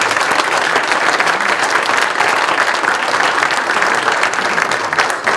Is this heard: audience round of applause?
yes